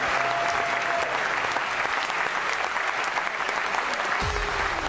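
Raucous live studio audience applauding at a webcast news show taping, dense steady clapping and cheering throughout at close range, with no talk over it.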